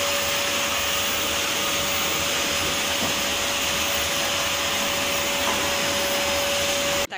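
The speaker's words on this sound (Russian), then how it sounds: "Теперь Антоха пылесосит" Household vacuum cleaner running nearby, a loud, steady whine and hiss with a constant tonal hum, cutting off abruptly at the very end.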